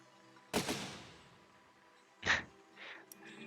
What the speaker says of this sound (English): Shooting the cannons when nothing's still around.